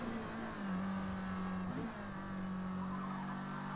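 A Mazda MX-5 race car at Kyalami in the Forza Motorsport video game, its engine droning steadily, dipping briefly as it brakes hard into a tight left-hander and then holding its tone again.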